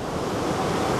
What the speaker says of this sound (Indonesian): sebuah sungai yang cukup besar dengan aliran yang cukup deras dan berbatu-batu